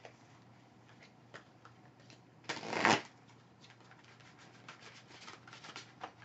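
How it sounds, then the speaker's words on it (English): A deck of Archangel oracle cards being shuffled, one brief riffling burst in the middle of a quiet room, surrounded by faint scattered ticks and rustles of handled cards. "I'm going to close by pulling one card from the Archangel deck by Doreen Virtue"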